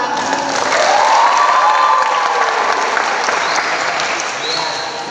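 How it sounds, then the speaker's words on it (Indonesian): A church youth congregation claps in a dense, loud burst that carries on for about five seconds, with a faint whistle or tone gliding through the crowd noise. "sekaligus tepuk tangan."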